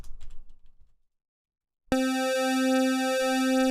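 A brief murmur fades to silence, then a steady electronic NES chiptune tone, tuned down, with a rich stack of harmonics starts abruptly and holds evenly.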